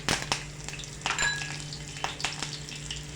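Curry leaves spluttering in hot oil with cumin seeds for a Maharashtrian thali dish, a steady close crackle broken by sharper bursts of popping with no voices.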